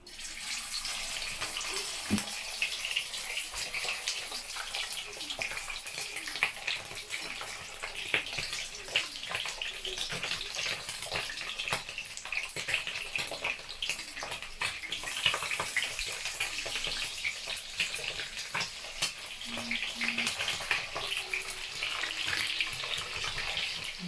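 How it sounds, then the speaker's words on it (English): Pork belly for Filipino lechon kawali frying in hot oil, a steady close sizzle and crackle that runs unbroken through the whole stretch with no talk over it. "I'm gonna fry now the pork."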